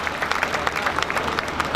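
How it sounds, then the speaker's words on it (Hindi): A brief, dense burst of crowd applause greets a performer at a Hindi comic poetry gathering in Behror. Many hands clap at once, fairly close and even in level. "एक बार जोरदार तालियों से आप उनका स्वागत करें"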